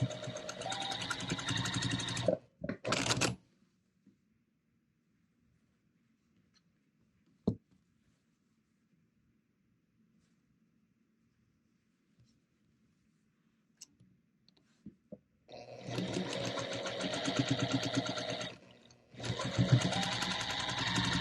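Domestic sewing machine piecing quilt block rows, with rapid mechanical stitching bursts at the start and again near the end, separated by a long quiet stretch with a few faint clicks and handling noises.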